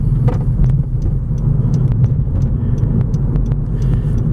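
A 2014 Honda Civic Si with a 6-speed manual transmission drives at steady speed, its engine humming loudly and evenly with road rumble, close up, no talking.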